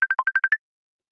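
A phone ringtone for an incoming call: seven quick electronic beeps in a bright melodic pattern, close and clean, ending abruptly after about half a second.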